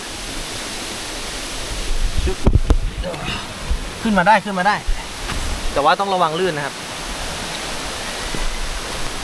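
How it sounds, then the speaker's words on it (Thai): A steady, rushing roar of a large waterfall, Chet Khot waterfall in Saraburi, Thailand, fills the background, with someone talking over it at close range. "คือตอนนี้เราเดินอยู่บน น้ำตกขนาดใหญ่นะครับ"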